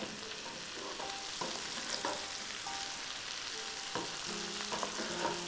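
Salt and pepper shrimp sizzle steadily in a frying pan while being stirred, with a continuous hiss broken by several scraping and clinking knocks of the utensil against the pan.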